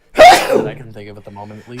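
A single sharp, close sneeze bursts out at the start, followed right away by someone talking.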